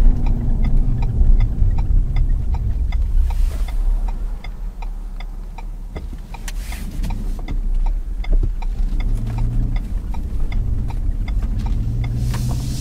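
A Ford F-150 Sport pickup truck engine rumbles in a steady low idle with a regular ticking running through it, continuous and fairly close, with passing road noise and no talking.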